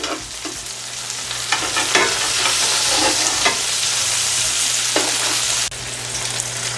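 Garlic sizzles loudly in a hot pan for blackened chicken fettuccine alfredo, a bright steady hiss with a few sharp stirring scrapes, close and continuous without speech.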